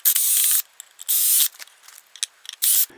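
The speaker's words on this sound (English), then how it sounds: "remove this metal housing that they put on here, because that's actually going to go on the junction box" A metal housing is worked off an Allen & Roth track light fixture, giving bursts of close, bright metallic scraping and ratcheting, three longer sweeps separated by small clicks and ticks.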